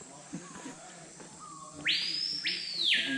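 A loud, clear bird mating call rings out nearby in the Amazon rainforest: two sharp whistled notes that sweep upward, following a quiet stretch of soft background sound.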